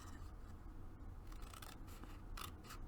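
Scissors cut into paper with faint, close snips and soft rustles, a few clipped strokes over low room noise.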